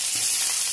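Garlic frying in hot cooking oil makes a brief, loud, continuous sizzle close by, with no voices over it.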